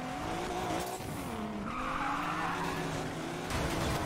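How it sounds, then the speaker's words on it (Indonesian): Tyres skid and squeal as a car drifts through a turn in the racing game Need For Speed Payback, the sustained screech rising and falling over a steady engine drone throughout, loud and close. "Kok jadi ngedrift gini, kawan?"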